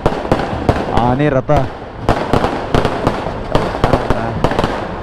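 Firecrackers burst in a rapid irregular string during a Ganesha festival procession with a chariot, loud and close, sharp cracks throughout as a person talks over them.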